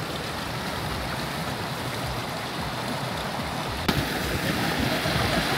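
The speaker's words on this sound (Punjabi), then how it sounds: "ਉੱਧਰੋਂ ਸਾਰਾ ਉੱਪਰੋਂ ਪਾਣੀ ਆ ਰਿਹਾ ਅਤੇ" A small stream flows under a little footbridge on an icy trail near Hanmer Springs, New Zealand, a steady close rushing of water with one faint knock partway through.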